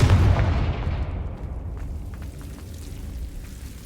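A Confringo spell detonates in Hogwarts Legacy, a loud booming blast that hits at once and then rumbles and fades away over a few seconds, with no voices.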